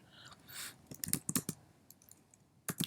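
Quick, irregular clicks of a computer keyboard as a command is typed into a terminal to check the installed Node.js version, with short bursts of keystrokes and pauses between them, close up and without any voices.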